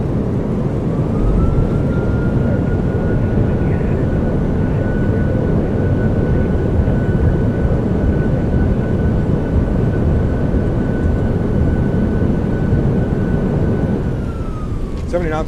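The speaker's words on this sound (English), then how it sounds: "Reversers are out. Decelerating." A simulated PMDG 737-800 rolls out after landing at San Diego in Microsoft Flight Simulator, its thrust reversers deployed, giving a loud, steady engine roar with a sustained whine that holds and then fades near the end.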